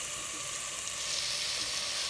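Onion pieces fry in hot oil for a tadka, giving a steady, close, bright sizzling hiss throughout without any talking.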